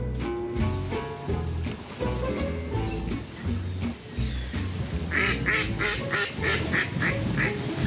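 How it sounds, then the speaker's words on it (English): Ducks quack in a rapid series of short calls toward the end, following a stretch of busy background sound and music in the Lake District. "Quack, quack, quack."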